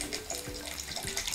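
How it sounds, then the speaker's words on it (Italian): Sulfuric acid at about 30% concentration poured from a container into a car battery, a light continuous liquid trickle and splash with faint bubbling, close by and steady throughout, with no talking. "E andiamo a mettere l'acido solforico nella batteria."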